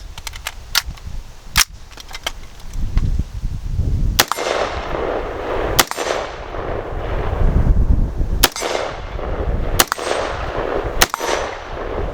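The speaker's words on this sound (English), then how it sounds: "I thought we'd shoot a few rounds and just see how it is" An XM177 CAR-15 rifle fires single rounds outdoors, about nine sharp cracks spaced irregularly a second or two apart, each followed by a brief echo over a low background rumble.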